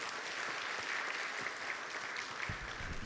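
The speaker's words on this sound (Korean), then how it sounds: "박수 한번 해주세요" A church congregation at a Sunday afternoon service applauds scholarship students, giving steady, close applause that fills the short moment, with no talk over it.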